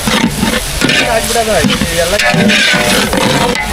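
Food frying in oil during temple cooking, with a loud, close sizzle and stirring running throughout beneath overlapping voices.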